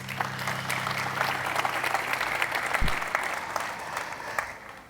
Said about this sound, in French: Je vous demande d'applaudir l'orchestre quand même